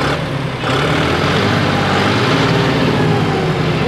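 Steady, smooth engine drone from a John Deere 5210 4WD 50 HP tractor running at an even pace, loud and close, with no talk over it.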